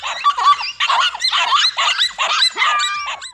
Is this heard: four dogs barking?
yes